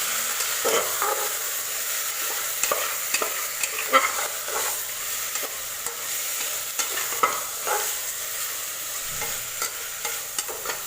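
Marinated vegetables and spices stir-frying in a pan for veg biryani, a steady sizzle broken by repeated scraping and tossing strokes of a spatula at an uneven rhythm, close and clear with no talk.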